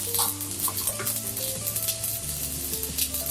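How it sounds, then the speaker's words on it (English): Scrambled eggs sizzling in a frying pan while being stirred, a steady close frying hiss with soft scraping stir strokes and faint tonal hum underneath, no voices. "we've got our scrambled eggs on. Right, so they're cooking nicely."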